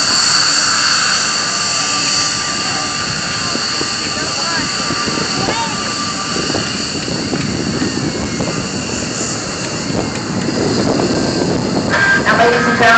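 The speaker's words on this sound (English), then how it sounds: "as he goes by the F-15 in his backseater" An F-15 fighter jet with a backseater passes at an air show, its broad jet roar holding steady and loud across the whole stretch, with a crowd or announcer's voice faintly mixed in beneath.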